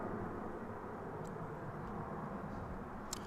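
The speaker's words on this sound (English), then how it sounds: "I'm hearing a plane taking off." A steady, distant rumble of an airliner taking off at DFW airport fills the air as a broad, even roar with no voices over it.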